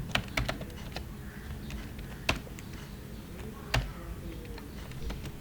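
HTML code being typed on a computer keyboard: irregular bursts of close, crisp key clicks with a few heavier strikes, likely the space or enter key, over a quiet room with no talk.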